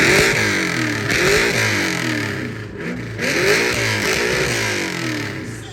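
A car's performance exhaust at an exhaust competition revs hard up to about 7,200 RPM, loud and close, with a harmonic rising-and-falling wail through several pulls and brief dips between them.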